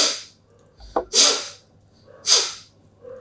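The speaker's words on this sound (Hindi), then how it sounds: "ब्लो करूंगा और एक झटके से करूंगा" Three sharp, forceful bursts of air blown out through one nostril, each a short hissing snort with quiet gaps between, close to the microphone and without talk.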